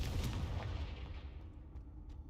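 A Confringo fire spell from the Hogwarts Legacy video game explodes with a loud, booming blast that quickly fades into a rumbling tail.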